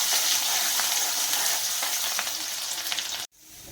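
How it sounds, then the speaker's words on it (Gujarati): Mustard seeds, hing, curry leaves, red chillies and garlic sizzle in hot oil, a loud, continuous hiss with small popping crackles that cuts off abruptly near the end before fainter sizzling resumes. "હવે આપણે એમાં 1 ચમચી રાઈ, હિંગ, મીઠો લીમડો, લાલ મરચાં અને લસણ નાખી આપણે સાંતળી લઈશું"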